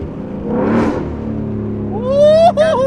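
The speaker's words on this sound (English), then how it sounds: "So the X pipe is gonna make it a little bit more high pitched" A Ford Mustang with a loud X-pipe exhaust passes with a rising whoosh, then revs hard in a high-pitched climbing rasp that cuts briefly on a shift, heard close over an engine drone while people talk in the car.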